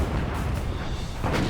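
Naval artillery from the British battleship Rodney firing broadsides of 14-inch guns at the Bismarck, a continuous heavy rumbling roar of gunfire and booms filling the short stretch with no speech.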